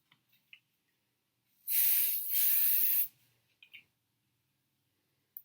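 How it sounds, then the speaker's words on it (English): Hairspray hissing from a can onto hair while curling beach waves, a single loud spray of about a second and a half. A few faint small clicks and rustles come before and after it. "by using the hairspray before on each section will definitely help hold the curl a little bit better"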